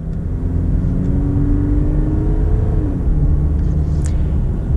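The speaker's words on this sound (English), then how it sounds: "Get a little acceleration here with the ZR2." A 2020 Chevy Colorado ZR2 Bison with the Duramax diesel accelerates with a loud, steady engine rumble from inside the cab, its pitch climbing smoothly and then dropping as it shifts, with no talking.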